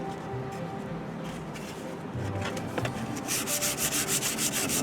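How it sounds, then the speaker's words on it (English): Sandpaper of 220 grit is rubbed by hand over a painted surface in a close, continuous scraping. Quicker, brighter rhythmic strokes come toward the end. "I'm going to sand it a little bit with the"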